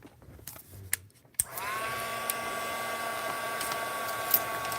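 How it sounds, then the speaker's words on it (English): A handheld heat tool drying watercolor paint on Christmas cards switches on after a few soft clicks and handling noises, then blows with a steady, loud whirring hiss that holds to the end, no voices. "We're using a heat tool. Keep that thing moving."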